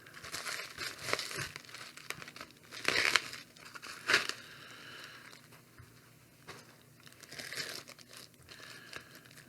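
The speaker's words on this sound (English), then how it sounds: "Go ahead and slice both ways so I can get through this tape here." A blade slices through packing tape on a box of knives being unboxed, giving close, crinkly tearing and scraping bursts with louder rips near the middle, no voices.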